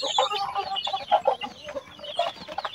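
Young chicks in a homemade brooder cluck and peep in a busy, overlapping chorus, close by and moderately loud, with many short calls throughout.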